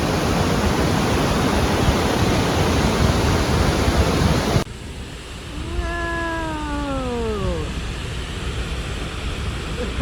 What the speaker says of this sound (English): South Creek Falls.